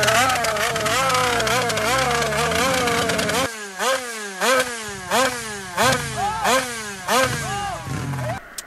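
A motorcycle engine revs hard in repeated rising and falling sweeps, then settles into a rhythmic pattern of about six sharp throttle blips, each ending in crackling backfire pops, close and loud with no talking.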